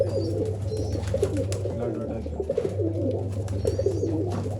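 Gulzar pigeons coo in soft, repeated low calls, layered and close, while a person talks over them in the background.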